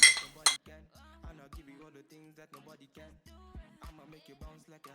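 Spoon clinking and scraping against a dish as cauliflower is mixed into cooked rice, a scattered run of close metallic taps and knocks with soft stirring between them.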